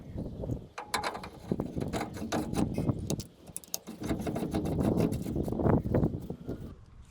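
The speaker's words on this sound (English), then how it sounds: "So now I'm going to be tightening up the tie rod." Inner and outer tie rod being tightened on a 1996 Toyota Tacoma: close metallic clanks, ratcheting clicks and wrench scraping in uneven bursts, with no speech.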